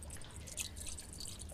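Gasoline poured into a boat in the Granny Chapter 2 video game gives a steady trickling, dripping liquid sound with faint splashy drips, continuous and close for the whole moment, without talk.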